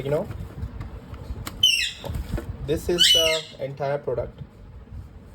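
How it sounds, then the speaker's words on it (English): A pet parrot squawks in several shrill, close bursts, mixed with rustling of packaging as a person speaks nearby. "Sorry about the noise, it's from my parrot."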